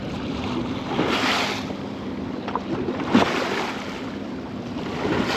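Seawater splashing over the bow of a fishing boat at sea, a broad continuous wash of wind and surf with surges of spray and a few sharper slaps, no talking.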